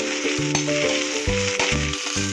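Curry leaves and coriander sauté in a pan for a potato bonda filling, with a steady close sizzle and choppy stirring sounds over a faint humming tone.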